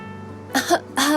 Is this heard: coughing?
yes